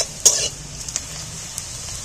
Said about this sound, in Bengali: এবার পেঁয়াজগুলো ভাজা হয়ে যাবে